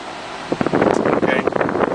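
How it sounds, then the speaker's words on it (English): Air conditioning in a 2011 Cadillac Escalade Platinum blows with a steady broadband whoosh on a low setting, close and fairly loud, with brief voice-like sounds mixed in. "Turn on the air conditioning first and foremost"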